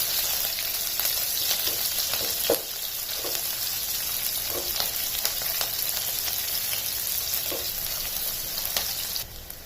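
Chopped onion and cumin frying in a pan, a dense continuous sizzle close up with a few brief stirring clicks and spatters.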